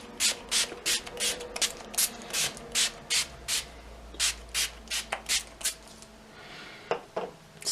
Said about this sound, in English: I'm going to go ahead and spray my face really quick